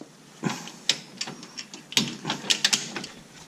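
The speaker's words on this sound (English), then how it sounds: "And we're going to torque this inner 17 to 59 foot-pounds." Ratcheting torque wrench clicking as a bolt is tightened on a Subaru BRZ / Scion FR-S / Toyota 86 lower control arm install, a run of close, sharp clicks in uneven bursts, quite quiet with no talk.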